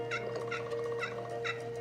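A wild turkey in Québec gobbles in a faint, distant series of four evenly spaced calls, over a steady low hum and a constant tonal drone.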